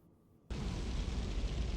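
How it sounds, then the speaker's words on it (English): Flashbang grenade detonating in a video game, a sudden loud blast after a near-silent half second, followed by a sustained roaring wash of noise that fills the rest of the moment. "I'm throwing a flashbang."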